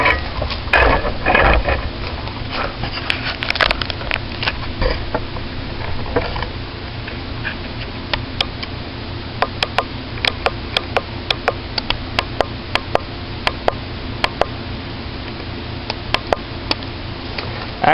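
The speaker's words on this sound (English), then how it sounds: "remove the 5 bolts from the intake manifold" Ratchet work on the intake manifold bolts of a first-generation 2000–2006 Honda Insight, a run of quick, crisp metallic clicks in steady bursts over a low background hum, close to the microphone with no talking.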